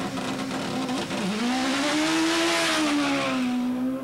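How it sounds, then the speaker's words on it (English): A drag race car at a 1999 import drag race accelerating hard, a loud continuous engine howl rising in pitch, dipping briefly as it shifts gears, then climbing and leveling off, heard from a moderate distance. "That's that long first gear again. He's all the way past the display signs, shifting into second."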